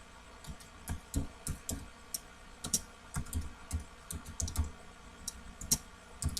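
Someone types a YouTube channel name on a computer keyboard: a quiet, irregular run of light clicking keystrokes, close and steady over several seconds with no voices.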